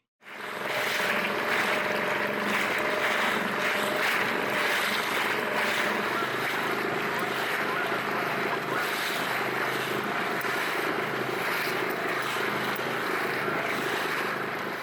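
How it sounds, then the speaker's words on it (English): An outboard motor drives a slow, heavy-laden F-rib boat into a force 3 breeze through splashing waves, giving a steady, loud drone mixed with wind buffeting and water noise throughout. "However, the outboard didn't mind the extra exertion of propelling the boat forward."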